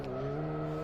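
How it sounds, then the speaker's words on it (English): A race car engine in the Live For Speed racing game drones steadily and close up, holding one even, unbroken pitch with no shifts or pauses. "Car goes vroom vroom."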